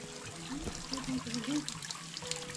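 Gentle trickling water flowing steadily, close by, with soft splashes and a faint background hum.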